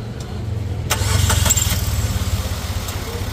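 A Maruti Wagon R with a long-cranking starting problem: a short whirring crank that catches, then the engine runs with a rapid, even low pulsing at close range, plus a few sharp clicks.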